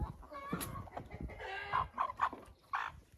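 Hens cluck in short, close bursts, several quick calls with small pauses between, clear and fairly near with light background noise.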